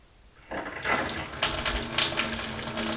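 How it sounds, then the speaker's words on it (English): Tap water runs steadily into a newly plumbed sink during a house renovation, starting abruptly after a brief quiet moment and continuing as a loud, broadband splashing rush, with no voices. "There's intentionally water coming out here."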